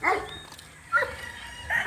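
A few sharp dog barks at moderate distance on a farm, separated by short pauses, over faint outdoor background noise.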